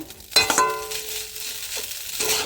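Potato chow mein is stir-fried in a pan: a quick metal scrape and clatter of the spatula, then a soft steady sizzle, with a second stir toward the end.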